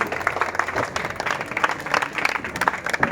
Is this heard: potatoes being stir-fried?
no